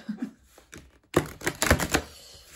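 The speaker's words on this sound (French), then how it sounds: "si j'arrive à mélanger le jeu" A deck of fairly new, somewhat stiff oracle cards being shuffled, giving a quick run of crisp riffling clicks and flutters that starts after a short quiet pause and stays close and fairly loud, with no talking.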